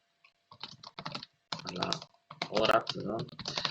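Clicky typing on a laptop keyboard whose keys sometimes fail to register, in rapid bursts of taps with a short pause between them.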